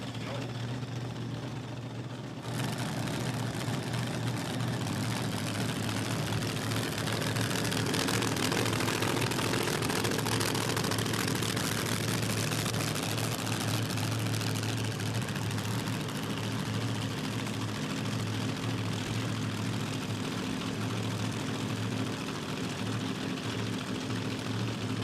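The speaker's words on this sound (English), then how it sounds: "Let's see what Gary can do in the supercharged altered." A supercharged altered drag racing car at Willowbank Raceway, Queensland, bursts into a loud, sustained engine roar after a quieter opening and holds it to the end, with commentary voices over it.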